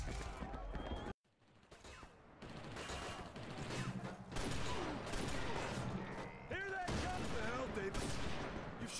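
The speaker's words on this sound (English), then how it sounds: "Stop shooting civilians, Russ." Gunfire in the video game The Invasion: dense bursts of rapid shots and fusillades fill most of the stretch, loud and close, with brief pauses and game voices talking over the action.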